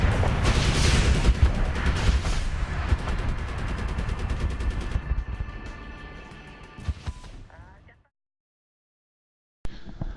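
AK rifle gunfire and RPG fire in a video game: dense, loud bursts of shots and blasts that thin out and fade to silence, then a brief sharp burst at the end.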